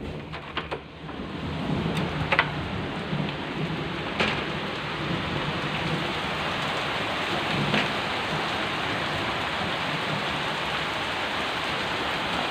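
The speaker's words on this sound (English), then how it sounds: "rain is coming down. There is thunder and lightning" Steady, dense rain pours down during a thunderstorm, a continuous hiss broken by occasional close drips and sharp cracks, with a faint distant rumble of thunder beneath.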